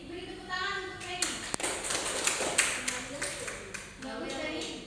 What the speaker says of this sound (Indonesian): beri tepuk tangan untuk Penny